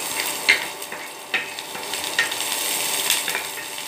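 Dried red chillies sautéing in a hot pan for a Kerala chilli-tamarind dish, with steady close sizzling and frying crackle broken by a few sharp spatula stirs and scrapes.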